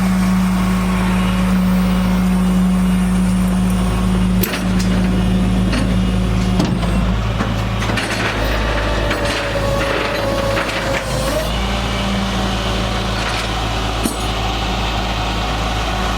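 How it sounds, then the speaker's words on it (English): A tow truck drops off a Nissan Sentra SE-R, its engine running steadily with mechanical clanks and a rising whine as the car is lowered, loud and continuous with no talk. "As you can see, the car's getting dropped off right now. We're gonna get it unhooked."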